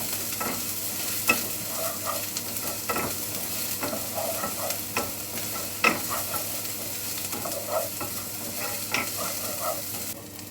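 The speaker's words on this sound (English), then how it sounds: "Then ginger, garlic, onions, curry leaves. Cook about 2 minutes. Just stir." Ginger, garlic, onions and curry leaves fry in a pan for a potato curry while being stirred. The sizzle is steady and close, broken by regular scraping and clattering strokes of the spoon, with no talk.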